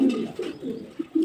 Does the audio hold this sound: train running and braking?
no